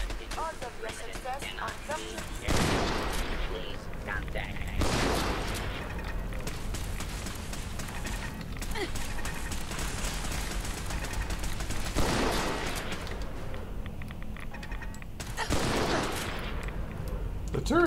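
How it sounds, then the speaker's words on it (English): Turret gunfire in Fallout 4's Nuka-World, heard as repeated bursts and impacts spread across a steady game ambience, moderately loud, with a voice talking throughout. "The turrets here are freaking lethal."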